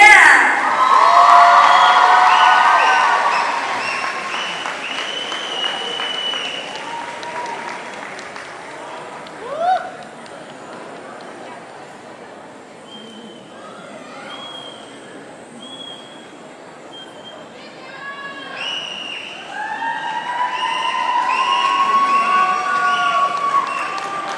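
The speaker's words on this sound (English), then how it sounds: "please give a big round of applause for Cai Ye-xie." Crowd applause and cheering for dance competition award winners at a Hmong New Year celebration in Fresno, loud and sustained, with shouts and whoops rising at the start and again near the end.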